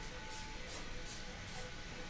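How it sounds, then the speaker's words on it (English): Four short hissing sprays from an aerosol can of oil lubricant applied to an airsoft RE-45 replica pistol, evenly spaced and close, over quiet background. "I think I spray a bit of oil"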